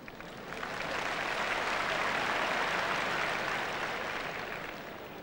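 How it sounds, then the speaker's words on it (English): Wimbledon tennis crowd at a 1978 women's semifinal breaking into applause and cheering that swells within a second, holds steady and broad, then fades slightly, with no talk over it. "Somebody catching the ball in the crowd, getting a cheer all to himself"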